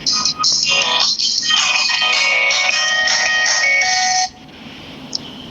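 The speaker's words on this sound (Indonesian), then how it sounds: "Itu HP-mu lagi bunyi loh, angkatan itu lagi ada bunyi." A mobile phone rings loudly and close by with a steady electronic melody for about four seconds, then stops abruptly, leaving quiet room tone.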